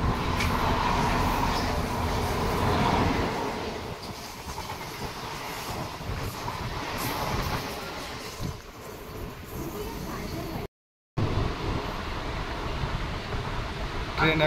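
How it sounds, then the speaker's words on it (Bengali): Mumbai local train running, a steady rumbling roar with rattling carriage noise throughout, fairly loud and close, briefly cut out near the end before resuming. "ট্রেনে উঠে পড়েছি, দেখতেই পাচ্ছ সামনে থেকে এক ট্রেন আসছে।"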